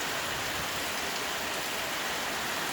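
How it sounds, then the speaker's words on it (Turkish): Heavy rain falls outdoors in summer, a steady, dense hiss of drops close by that fills the whole stretch without pause, with no voices. "Her yer yağmur, her yerde yağmur."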